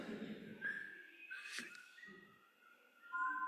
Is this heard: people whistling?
yes